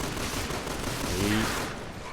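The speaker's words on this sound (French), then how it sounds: "Donc d'abord, on peut tirer tout en bougeant, ça c'est pas mal." Gunfire in the video game Resident Evil 6 while the character moves: a dense, continuous crackle of shots over a loud, noisy game soundscape, with a brief tonal blip in the middle.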